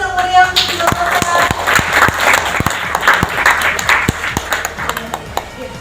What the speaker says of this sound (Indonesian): Kita kasih aplaus yang meriah untuk Ibu Rosa.